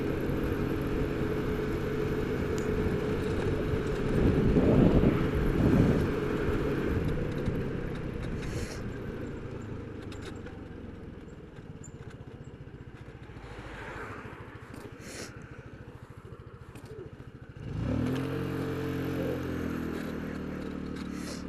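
A Royal Alloy GT125 scooter with Dr. Pulley sliders rides on a road, its steady engine drone and road rumble continuous throughout, swelling louder around the middle and again near the end as it pulls away.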